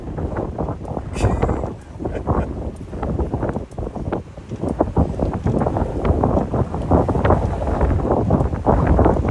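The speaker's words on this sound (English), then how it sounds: "Oh my Lord, with this wind." Strong wind buffets the microphone during a bike ride around Jamaica Bay in New York City, a loud continuous roar with gusty swells and rattling throughout.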